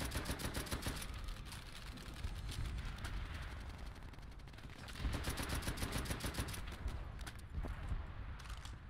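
Rapid Type 99 gunfire in Call of Duty: World at War comes in bursts of fast, sharp shots throughout, steady and loud with a short lull in the middle and no talk.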